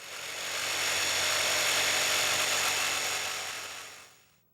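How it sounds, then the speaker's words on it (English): A saber saw cuts a slot between two drilled holes in a wooden ice-fishing tip-up, a steady, close buzzing rasp that swells up, holds for a few seconds, then trails off as the blade stops. "then go in between them with a saber saw"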